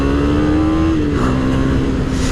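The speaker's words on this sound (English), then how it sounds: "when I put it into second gear and I open the throttle, it's gonna be giving that huge acceleration" A KTM Duke 250 motorcycle engine pulls hard in second gear as the throttle opens, a steady close buzzing drone that climbs slightly in pitch over a couple of seconds with no talking.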